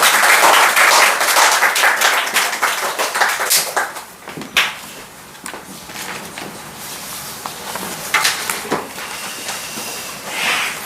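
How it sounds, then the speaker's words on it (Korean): A church congregation claps in welcome for a visiting missionary at a Sunday worship service, loud dense applause at first that thins into scattered claps and taps over about eleven seconds. "나오실 때 우리 큰 박수로 환영해 주시면 감사하겠습니다."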